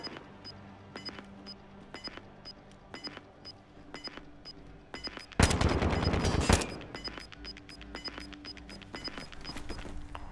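Gunfire in an online shooter game, with a string of sharp separate shots spaced across the passage and one loud sustained burst near the middle.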